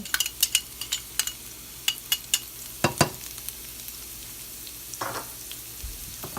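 Chopped garlic frying in oil in a pan, with a soft steady sizzle under repeated sharp clinks and scrapes of a utensil stirring, and a brief louder hiss near the end.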